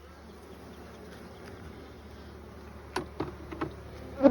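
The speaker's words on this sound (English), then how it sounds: "Man, quite a bit of bees on that side working it." Bees working honeycomb during a hive inspection, a soft continuous buzzing hum close by, broken near the end by a few brief knocks and clicks from handling the frames.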